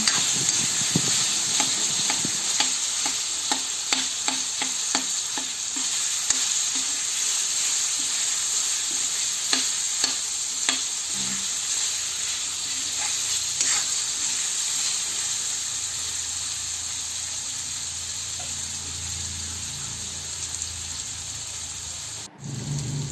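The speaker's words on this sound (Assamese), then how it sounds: "মই সিজাই থোৱা আলুখিনি দি দিম। এতিয়া অলপ সময় লৰাই থাকিম।" Boiled potatoes sizzle in a pan as a spoon stirs them, with repeated scraping clicks early on over a steady hiss that continues alone.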